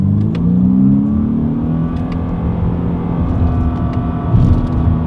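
2021 Honda Insight hybrid accelerating under paddle-shifter control, a steady mid-pitched engine whir with a faint rising note heard from inside the cabin, continuous and without talk.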